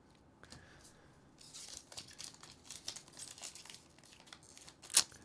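Foil wrapper of a One Piece OP-17 trading card booster pack crinkling and tearing up close, with soft rustles building into a sharper rip near the end and no talking.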